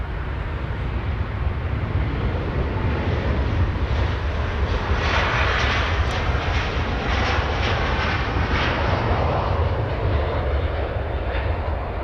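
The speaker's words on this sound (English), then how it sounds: "That's an A330 Neo." A Delta Airbus A330neo departs Los Angeles International Airport, its jet engines producing a loud, sustained roar that swells and hangs over the whole stretch.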